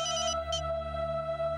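A phone rings with a steady electronic ringtone, fairly faint, a brief bright chirp repeating over a sustained tone with no voices.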